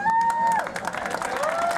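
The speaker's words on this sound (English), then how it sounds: "let's give them another round of applause" Applause and cheering from a crowd honoring a boys' basketball championship team at a plaque presentation, steady clapping filling the room with a tonal whistle-like sound over it.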